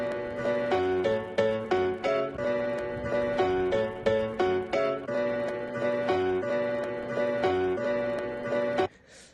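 Pitched-down Cuban son montuno piano sample at 90 BPM, a repeating syncopated pattern of chopped chords with sharp attacks in a steady loop, moderately quiet, ending in a sudden cutoff.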